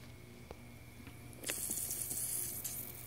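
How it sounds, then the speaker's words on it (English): Air hisses out of the top of a fiberglass well tank, a sudden bright faint hiss starting partway in and continuing steadily over quiet background noise. "Why is there air leaking out of the top of the tank?"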